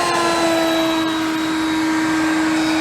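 A Whisper Series leaf blower runs steadily on high in its 550 CFM mode, a continuous airy whoosh with a sustained whine, close and alone without talk.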